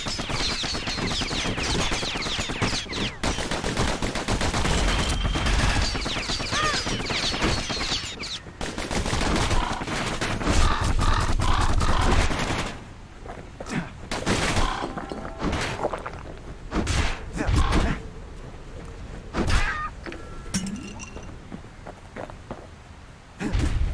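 Rapid bursts of the Kid's guns firing in the Bastion video game, with dense, loud volleys over the first half and sparser, scattered shots afterward amid other game effects.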